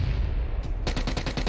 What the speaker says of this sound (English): There's still a solo guy shooting you. I heard those shots.